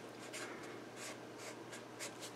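Marker or chalk scratches across a board during a calculus lesson, several short faint strokes in a quiet room with no one speaking.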